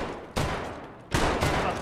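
Gunfire in Escape from Tarkov, two loud bursts of rapid shots roughly a second apart, each a dense, harsh fusillade close to the listener with no talk over them.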